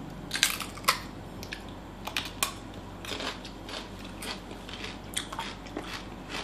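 Somebody bites into crunchy fruit and chews it up close, giving several sharp crisp crunches early on and then softer, irregular chewing and crushing sounds over a low background hiss, with no talking.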